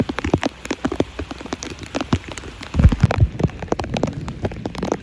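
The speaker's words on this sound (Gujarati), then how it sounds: "અત્યારે વરસાદ ફૂલ જોરદારનો ચાલુ થઈ ગયો છે આજે" Heavy rain pours steadily over fields, a loud, dense patter of drops with scattered sharper hits and no voices.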